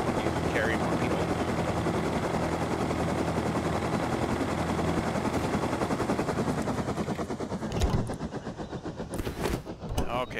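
Continuous chopping rotor drone of a helicopter in the video game Rust, with rapid bursts of gunfire-like rattle, dense and loud, thinning out near the end.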